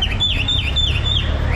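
A man imitates a bird call with his mouth on a busy city street in Sri Lanka, a loud, shrill warbling whistle repeating in quick swoops over a low rumble of traffic and crowd.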